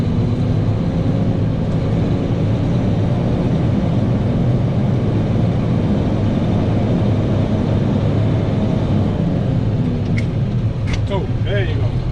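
A truck's engine roars steadily as the driver accelerates and shifts up through the gears, a loud, close drone filling the cab, with people talking briefly near the end.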